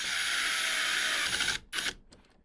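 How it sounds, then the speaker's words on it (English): A power drill drives a screw into the top hole of a Vibe Shearwater 125 kayak steering handle, a loud sustained whirring buzz that cuts off, then a brief second burst and a few small clicks. "I am going to use my drill here and put one of these screws in just a little bit."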